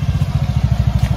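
A rented red motorcycle on Phu Quoc Island idles close by with a loud, even, rapid low putter of firing pulses, alone without voices.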